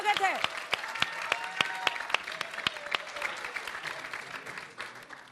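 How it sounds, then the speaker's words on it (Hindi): An audience applauds to welcome two guests onto a Hindi TV debate show, sharp individual claps standing out over a continuous patter, fading slightly toward the end. "तालियों के साथ आप दोनों का बहुत बहुत स्वागत है।"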